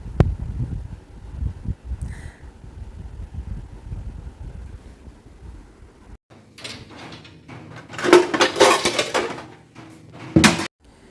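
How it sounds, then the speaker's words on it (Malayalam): Dishes clink and clatter as they are set down, with a cabinet door knocking shut near the end, after a stretch of low rumbling background noise. "ഞാൻ കഴുകി വെച്ച പാത്രമൊക്കെ നല്ല ഡോറുള്ള ഷെൽഫിലേക്ക് എടുത്ത് വയ്ക്കുകയാണ്"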